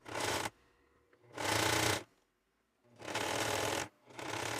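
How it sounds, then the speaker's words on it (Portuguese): A sewing machine runs a straight seam along a strip of lace in bursts, stitching for about half a second to a second at a time with short quiet pauses between runs, close and fairly loud with no talking. "vou passar uma costura reta de ponta a ponta aqui"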